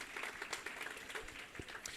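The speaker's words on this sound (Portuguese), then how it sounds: "Olha, de palmas para vocês, por favor" A church congregation at a Sunday family service applauds: faint, distant scattered clapping blends into a soft continuous patter throughout.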